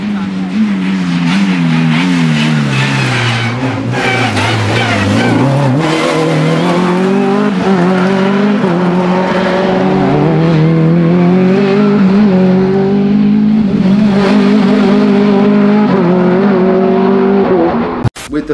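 A rally car built to maxi F2 spec roars close by, its engine revving up and easing off in continuous rising and falling sweeps, with voices faint beneath the noise.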